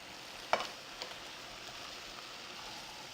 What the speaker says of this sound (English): Keep stirring, keep moving everything around in the pan